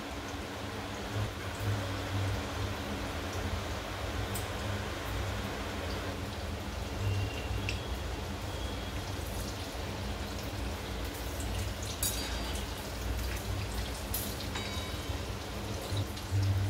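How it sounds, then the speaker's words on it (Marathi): Heavy rain falls steadily outdoors, a dense unbroken patter of drops on surfaces that holds a constant loud level for the whole stretch, with no voices over it. "बाहेर खूप छान पाऊस पडतोय"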